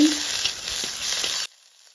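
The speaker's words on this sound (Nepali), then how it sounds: "अब चाहिँ मैले काटेको टमाटरलाई राख्दै छु।" Loud sizzling of a mushroom curry pan as chopped tomatoes go in, a dense hiss with stirring scrapes that cuts off abruptly near the end, leaving faint quiet.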